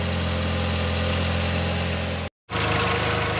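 An Audi TT Mk1 engine idles steadily close by with a constant low hum and faint vibration, a brief total dropout near the end, then the same idle resumes.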